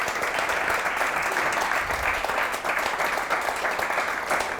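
Steady applause from an audience at a live pub gig in Stockport, honouring a guitarist, with dense clapping sustained evenly throughout and no voices standing out.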